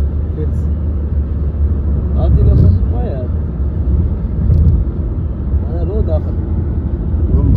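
Traffic rumbles along a highway in a low, continuous drone that swells as vehicles pass, with people talking over it throughout.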